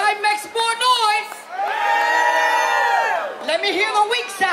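Part of a street celebration crowd on 86th Street in Brooklyn, New York erupts in loud cheering and whooping, with scattered shouts giving way to a long, steady roar that fades into lingering yells.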